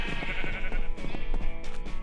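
Sheep in the video game Minecraft give a run of several loud, close bleats in quick succession, with no talk over them.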